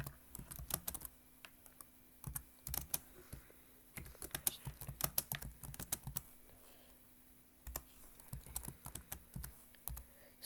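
Fingers type text on a computer keyboard in close, clicky bursts of keystrokes, pausing briefly partway through before resuming.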